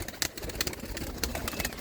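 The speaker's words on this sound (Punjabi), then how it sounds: "ਕਬੂਤਰ ਤਾਂ ਬਹੁਤ ਨੇ ਬਾਈ ਹੁਣਾਂ ਦੇ ਕੋਲ" Pigeons in a loft coo and flutter close by, a dense overlapping murmur of soft calls with repeated short bursts of wing and body movement.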